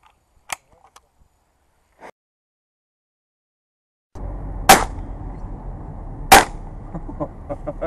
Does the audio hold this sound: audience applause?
no